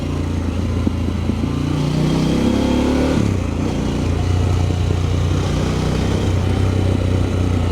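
A motorcycle climbs a hill on a country road in East Auckland's Kaiaua Loop, its engine droning loudly and steadily with a shift in pitch midway, wind rush constant throughout.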